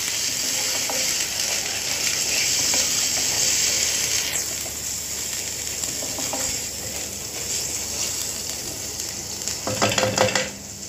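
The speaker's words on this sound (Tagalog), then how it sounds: "Kailangan maigisa silang lahat." Tomato paste sautéing with shrimp, tofu, shimeji mushrooms, cauliflower and bell pepper in buttered garlic, a steady close sizzle with scraping stir strokes and a cluster of clinks near the end.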